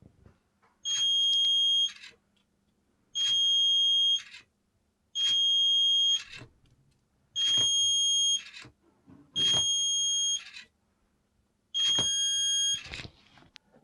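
A piezo buzzer on an Arduino crocodile robot beeps in six evenly spaced, loud, piercing one-second bursts with short silent gaps between them, alone without talk.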